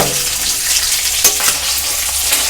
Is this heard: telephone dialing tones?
no